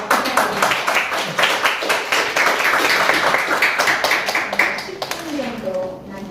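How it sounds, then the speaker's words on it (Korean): Audience applause at a political forum on North Korean denuclearization, a dense burst of many hands clapping that lasts several seconds and then tapers off. "박수 한번 부탁드립니다."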